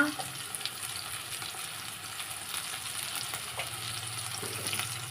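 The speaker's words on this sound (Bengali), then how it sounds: "মশলাটা ভালোভাবে কষিয়ে নিয়েছি, মশলা থেকে তেল ছেড়ে গেছে।" Ginger and chilli paste fries in oil with a soft, steady sizzle and a few light stirring scrapes. The sound is close but fairly quiet, with no talking.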